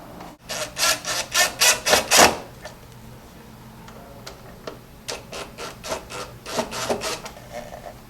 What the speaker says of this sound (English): what we're going to do is drive our 3/4 inch flathead screws into these holes